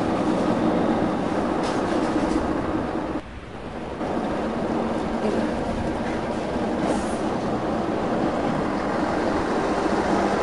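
A train rolls steadily in the Bus and Cable Car Simulator game, a continuous loud rumble with faint rail clatter that dips briefly before resuming.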